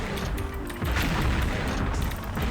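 Continuous dense gunfire at a boss in the video game XShot, a loud unbroken barrage of rapid booming shots that swells slightly partway through.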